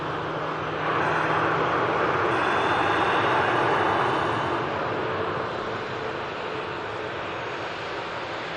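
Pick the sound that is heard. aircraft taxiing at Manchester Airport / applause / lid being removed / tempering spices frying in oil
aircraft taxiing at Manchester Airport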